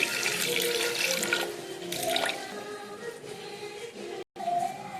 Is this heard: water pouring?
yes